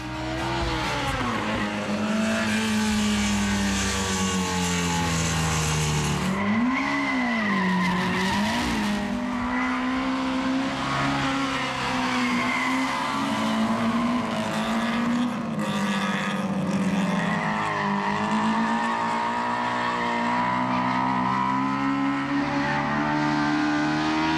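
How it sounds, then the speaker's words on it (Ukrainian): Loud, continuous engine whine of Fiat 128 race cars at high revs, pitch rising and falling as they accelerate, with tire squeal mixed in. "Коли 128-й гоночні автомобілі стартують, починає горіти повітря, високі оберти та нестринний звук."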